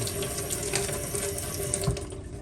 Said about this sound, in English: I turn that water off.